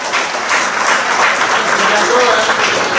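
A hall audience at a pita-cutting celebration gives warm applause for a dance group: loud, dense clapping from many hands, sustained and even throughout, with voices mixed in.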